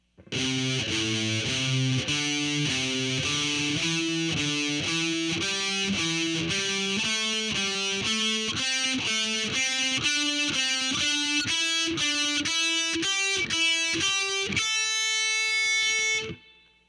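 A heavily distorted electric guitar plays a slow heavy metal riff, one fretted note after another in an even, deliberate rhythm, climbing gradually before ending on a sustained ringing note.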